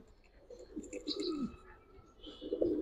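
Giribaz highflyer pigeons coo in a few soft, rounded bursts, one near the start and another louder one toward the end, with faint chirps and a little background rustle.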